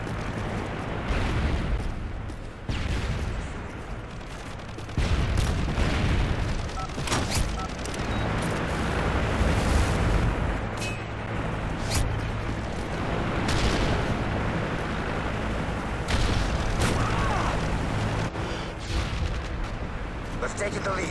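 Heavy explosions from an aircraft strafe run in Modern Warfare 3 on the Seatown map, a series of booming blasts and rumbling impacts layered over constant gunfire, with voice lines heard throughout.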